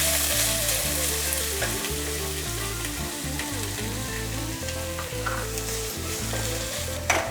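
Onions with a little salt fry in a pan after curry leaves for capsicum rice, a loud close sizzle with stirring scrapes, set against a steady low electrical hum that pulses on and off.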